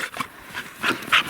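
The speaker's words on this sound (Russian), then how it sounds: "Ревнивый пес" A jealous pet dog named Max makes short whining, yelping vocalizations in quick uneven bursts indoors, close and moderately loud.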